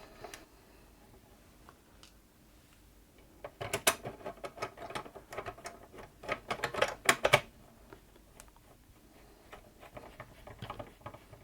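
Top screws are fitted into the cover of a Bernette 610D serger during servicing: faint, irregular clicks and small metallic ticks, sparse at first and then in a busier cluster, with no talking.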